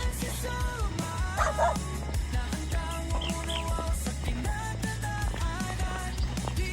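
A dog barks and yips repeatedly amid a constant low hum and busy background noise, fairly close and moderately loud.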